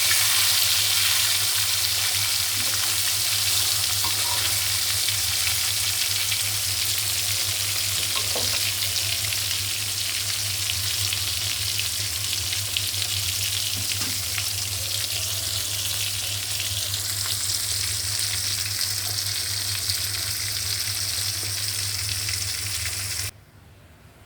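Koi fish sizzles in oil in a wok, a dense, even frying hiss with faint stirring clicks that continues loudly for over twenty seconds before cutting off abruptly; nobody talks.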